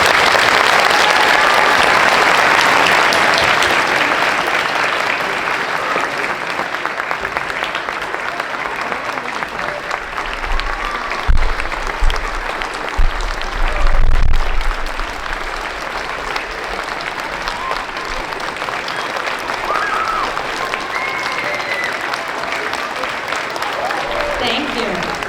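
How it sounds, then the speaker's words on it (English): A school audience at a Veterans Day broadcast claps for an honored veteran, a long, steady burst of applause that fills the room, gradually thinning with a few louder thumps midway. "Let's give him a big round of applause."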